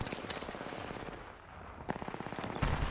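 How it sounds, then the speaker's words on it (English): Automatic weapon fire from the Apex Legends video game, rapid bursts of gunshots rattling in quick succession, with a short lull midway before another loud burst resumes. "Firing."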